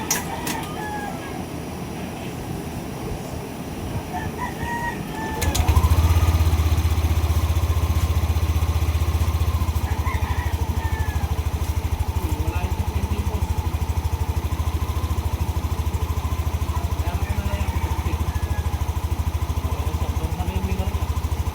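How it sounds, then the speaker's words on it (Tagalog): A Yamaha Nmax 155 V2 scooter with an unstable idle starts after a few seconds and then idles steadily with a low, continuous engine rumble, alongside rooster crows in the background. "papaandarin ko ulit itong motor"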